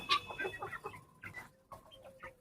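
Several chickens, including a grey hen, cluck and chatter close by in a busy, irregular run of short calls, with no talking.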